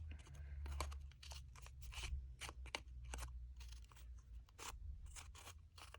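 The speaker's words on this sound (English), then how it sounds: "just go around the edge and cut into it" Scissors snip repeatedly into the centre of a small paper-craft mini flower, a run of crisp, close cuts in uneven rhythm over a low steady hum.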